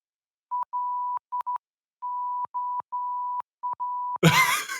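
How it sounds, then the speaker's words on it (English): Morse code tones spelling LOL, a steady mid-pitched beep keyed on and off in a pattern of long dashes and short dots, loud and clean, then cut off by a sudden burst of harsh noise at the end. "I did find out what LOL is in Morse code"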